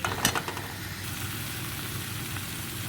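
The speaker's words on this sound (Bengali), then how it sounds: "পেঁয়াজ বাটাটা দিয়ে বেশ ভালোভাবে আরও এক মিনিট কষাবো" Onion paste frying in a pan for Bengali prawn malai curry gives a steady soft sizzle, with a brief clatter of stirring near the start, close and fairly quiet.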